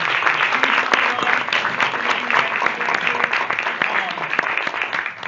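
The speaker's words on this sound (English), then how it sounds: "Okay, big round of applause" Dense, steady applause from an audience at a Cincinnati City Hall event for the African American Chamber, sustained and fairly loud throughout with no break in the clapping.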